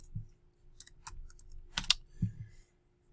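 Keys clack on a computer keyboard in a short, sparse run of taps, close and quiet, with a few clustered presses and gaps between them.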